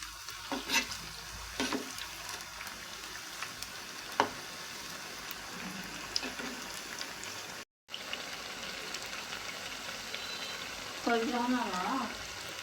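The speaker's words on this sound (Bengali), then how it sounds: "নাস্তাগুলোকে এখন আমি উল্টিয়ে দিব এক পিঠ ভাজা হয়ে গেলে আরেক পিঠ ভালোভাবে বেজে নেবেন" Potato and flour pakoras frying in hot oil and being turned over, a steady soft sizzle with occasional clicks of a utensil against the pan, and a voice speaking near the end.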